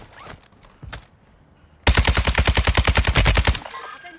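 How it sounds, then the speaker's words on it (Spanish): Gunfire in Modern Warfare 2: a couple of scattered single shots, then a loud, close, fast automatic burst of evenly spaced rounds lasting under two seconds, followed by quiet. "Me disparan por la derecha, gente."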